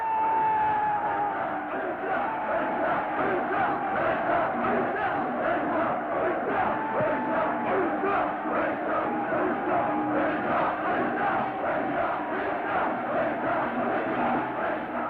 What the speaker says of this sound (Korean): 이차전놀이꾼들은얼싸돌싸라고 함성을 지르며 양편은 서로 마주보고 경기 태세를 갖춥니다.